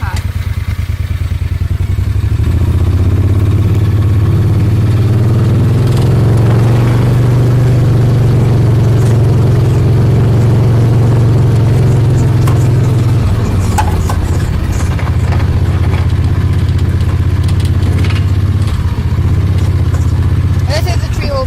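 A John Deere Gator 625i utility vehicle with a fast-attack wildland firefighting setup drives in high gear, its engine droning loud and close with a steady, rising and falling pitch and some rattling.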